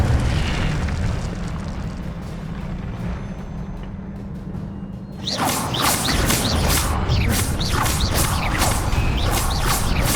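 A fire spell cast in the video game Hogwarts Legacy: after a quieter rumbling stretch, a loud burst flares up, followed by a dense run of rapid crackling impacts and whooshes that sound close and continuous.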